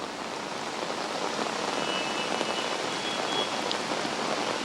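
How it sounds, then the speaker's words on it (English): Heavy rain falls steadily across flooded Delhi streets, a dense, even hiss of drops hitting water and pavement that holds constant throughout with no voices. "you can see it is continuously raining."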